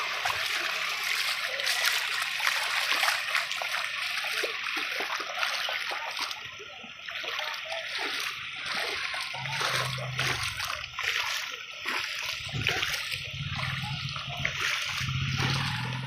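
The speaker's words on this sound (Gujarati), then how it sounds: "તો તમે જોઈ શકો છો કે કેટલું કેટલું પાણી આવે છે મિત્રો." A village river with water rushing and splashing continuously for the whole stretch, a broad churning wash that swells and dips, with a few heavier gurgles and sloshes toward the end.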